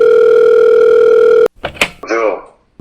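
A telephone dial tone sounds loud and steady for about a second and a half while a call is placed, then cuts off abruptly, and a voice speaks briefly after it.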